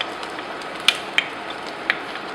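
Tomato sauce hitting a pan on medium heat, a soft continuous sizzle with three sharp little pops or spits standing out over the steady frying hiss.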